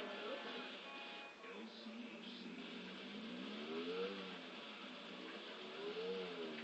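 Motorcycle engine revving in Grand Theft Auto IV, a steady drone with rising and falling pitch sweeps, heard under someone talking throughout.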